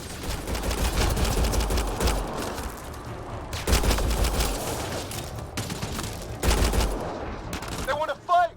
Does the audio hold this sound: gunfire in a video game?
yes